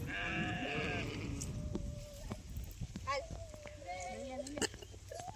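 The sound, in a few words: sheep and goats bleating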